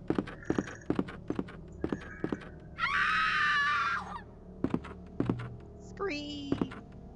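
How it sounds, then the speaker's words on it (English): A scream in the Resident Evil 2 video game rings out as a loud, rising shriek amid thudding footsteps and knocks, followed later by a second, shorter wailing cry. "Scream!"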